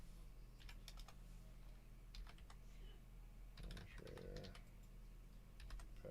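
Quiet clusters of computer keyboard key clicks, tapped in short uneven bursts over a constant low hum, with a brief murmur of a voice partway through.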